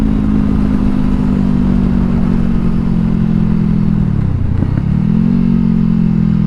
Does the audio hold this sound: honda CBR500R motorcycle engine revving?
yes